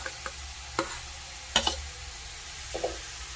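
Grated carrots sautéed in ghee for carrot halwa give a quiet, steady sizzle broken by a few sharp scraping and clinking taps of a spoon stirring against the pan, close and sparse.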